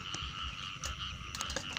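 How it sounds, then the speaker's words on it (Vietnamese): A female frog croaks in a flooded rice paddy in cold early-season weather, with repeated short rasping calls at close range over a steady chorus of other frogs. "Ếch này ếch cái nha."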